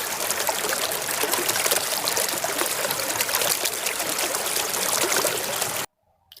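Water runs and splashes steadily as a yellow toy JCB is washed, close and continuous for about six seconds before cutting off abruptly.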